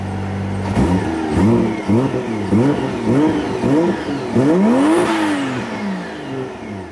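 A car engine revs repeatedly with a loud intake suction, rising and falling in quick blips before one longer climb that fades away, close and loud with no talking.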